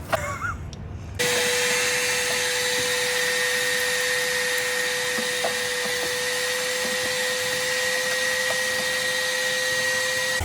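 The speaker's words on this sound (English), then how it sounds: "got the blower motor back in. Works better, sounds better." A reinstalled HVAC blower motor in a vehicle switches on and runs with a loud, steady whirring hum and a constant pitched whine, close and continuous after a brief quieter start.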